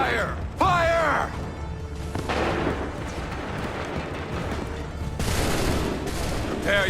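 A musket volley in Assassin's Creed 3, a loud massed crash of many shots at once followed by rumbling echoes and battle noise, with a shouting voice briefly heard at the start.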